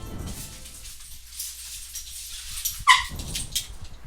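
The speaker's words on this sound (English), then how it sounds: "my doggies are being bad in the background." Pet dogs roughhousing in the background, giving a few short muffled barks and whimpers, moderately close, scattered irregularly over low room noise.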